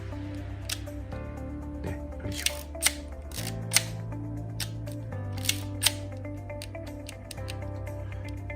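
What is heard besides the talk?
Minox 35GL film camera lever winding and shutter click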